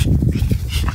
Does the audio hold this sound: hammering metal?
no